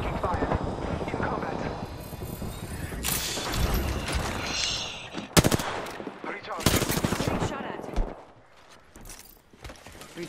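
Rapid automatic gunfire rattles through an Apex Legends firefight, with dense bursts and sharp broadband cracks, loud and close, alongside game voice callouts and mechanical effects; it thins out toward the end.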